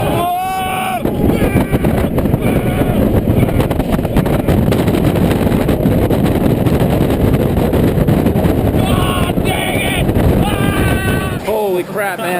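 A 2012 Ducati Panigale 1199 S roars under hard acceleration, its engine note rising and falling through the gears and smothered by loud, constant wind rush at speed, with a rider's voice briefly audible near the start and end.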